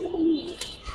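A young Giribaz pigeon from an old bloodline gives a single short, soft coo, close and alone against a quiet background.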